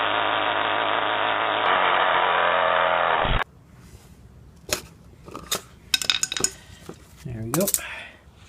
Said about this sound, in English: I'm going to remove the backfire screen, which should be just removing those 4 little tabs, and I should be able to pop off the screen